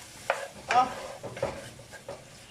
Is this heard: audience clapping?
no